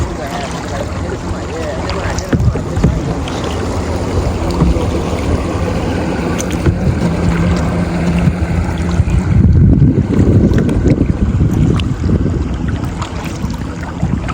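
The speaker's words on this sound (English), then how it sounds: "nice little paddle up the river" A kayak is paddled up a quiet river, with steady water wash, wind buffeting the microphone and a swell of splashing near the end, all loud and continuous with faint voices underneath.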